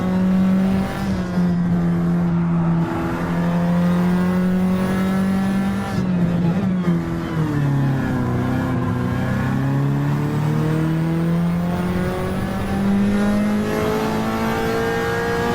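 Race car engines in the Trackmania Nations racing game on a deep forest track, a loud sustained drone whose pitch rises and dips as the cars accelerate and ease off, continuous throughout with no talk.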